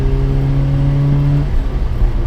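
A modified Nissan Micra engine drones loudly from inside the car while driving, a steady low-pitched tone holding for over a second before it shifts and eases off under road rumble.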